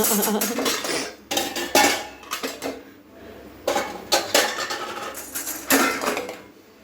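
Washed metal cooking pots and pans, including an idli vessel, clank and clatter in irregular bursts as they are handled and set down nearby, with no talking.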